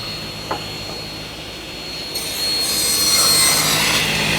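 A table saw spins and cuts a shoulder miter joint in wood. A steady whine and hiss builds into a louder rushing cut partway through, with no talking.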